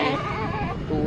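A Rajanpuri cross goat bleats at a busy livestock market in Lahore, a loud, close, wavering cry that lasts about a second against crowd noise.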